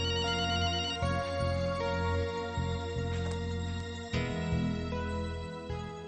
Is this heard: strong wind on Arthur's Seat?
no